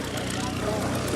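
A Morane propeller aircraft flies overhead at an airshow, a steady, rough engine drone with a faint pulsing beat, heard briefly at moderate distance.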